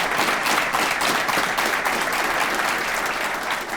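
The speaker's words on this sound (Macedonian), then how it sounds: "аплауз за нашите партнери" Audience at a televised Macedonian interview show with Goran Bregović bursts into sustained, dense applause that carries evenly throughout and fades only slightly at the end.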